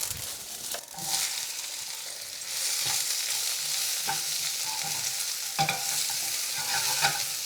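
Onions fry in olive oil with cumin and mustard seeds, giving a steady close sizzle that swells partway through, with scrapes of stirring breaking in at intervals.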